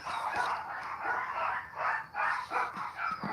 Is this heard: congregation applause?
no